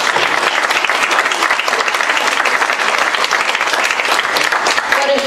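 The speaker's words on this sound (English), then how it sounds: "So if we can clap and applaud for these sponsors." An audience at a live business event applauds its sponsors with dense, sustained clapping from many hands, loud and even throughout.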